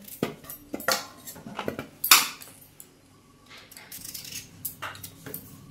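Knife working through pumpkin for a village-style fish-head curry, a string of sharp cutting clicks and clacks on a board at close range, with a loud crack midway, then quieter, scattered taps with no talk.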